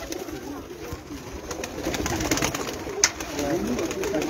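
Pigeons kept by a champion pigeon fancier coo softly amid a noisy outdoor background, with a faint, continuous bird murmur and one brief sharp click.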